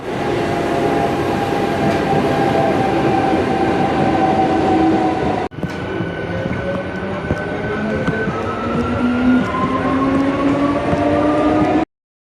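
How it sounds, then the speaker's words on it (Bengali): A Katwa–Howrah local train pulls into platform 1 at Samudragarh station, loud and close, with a steady rumbling roar and rising metallic wheel squeals as it slows. "কাটোয়া হাওড়া লোকাল সমুদ্রগড় আসছে, 1 নম্বর প্ল্যাটফর্মে আসবে 379"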